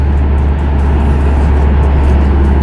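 A Subaru WRX Hawkeye engine runs under load with turbo boost, a steady, loud low rumble and a faint hiss throughout, no voices.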